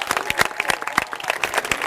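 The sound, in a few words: audience applauding young speakers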